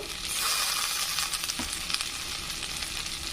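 Hilsa fish heads fry with onions in a pan, giving a loud, steady sizzle up close, broken by a few soft stirring scrapes and small crackles.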